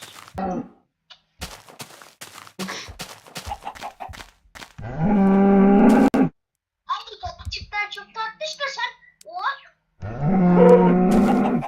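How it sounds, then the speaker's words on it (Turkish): Two loud, drawn-out cow moos in Minecraft with horror mods, each lasting about a second, separated by chatter and game noises, with people talking throughout. "İnekten çıkan sese bak."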